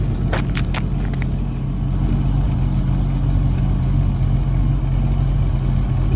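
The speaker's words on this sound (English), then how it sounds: "For a straight through muffler design, it's amazing how quiet these are." A car engine idles with a low, steady exhaust rumble through stainless straight-through mufflers close by, a few light clicks near the start.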